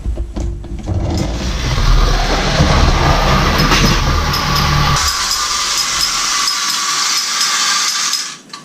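A model train runs along the track past a switch with loud, close rumbling and clicking wheels; the sound softens partway through, then cuts off near the end.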